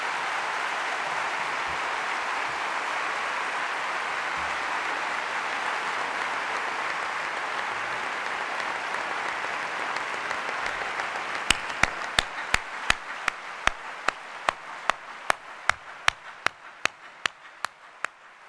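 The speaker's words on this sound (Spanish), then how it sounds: "compañero Juan Carlos Rodríguez Ibarra, al que pido un enorme aplauso por nuestra parte, por parte de todos." Audience applause at a political candidate presentation event, a dense sustained roar of clapping that thins toward the end into sparse individual claps.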